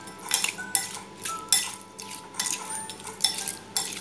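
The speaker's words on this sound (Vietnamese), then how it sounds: "mình sẽ trộn cho cái nhà đam của mình nó ngấm cái đường phèn đấy" Aloe vera mixed with rock sugar in a bowl, a spoon clinking and scraping in a steady rhythm of sharp strokes about every half second, with no talk.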